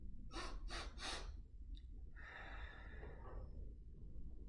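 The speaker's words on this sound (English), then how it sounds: "we breathe in through our nose 3 times and then blow out through our mouth" Three quick sniffing inhales through the nose are followed by a long, breathy exhale blown out through the mouth, close and soft in a quiet room, as in a children's breathing exercise.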